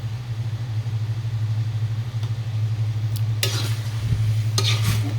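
Pancit sotanghon noodles with vegetables being stirred in a pan, with a few scraping strokes of the utensil over a low steady hum and a faint sizzle, and no voices.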